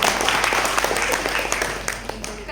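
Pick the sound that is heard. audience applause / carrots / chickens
audience applause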